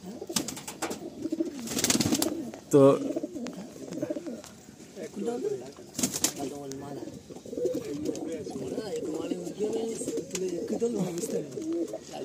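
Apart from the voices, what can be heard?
Madrasi pigeons cooing in a loft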